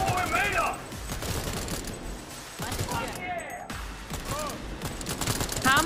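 Bursts of rapid gunfire from the video game Cyberpunk, firing in dense volleys through most of the stretch, with someone talking and shouting over the shots.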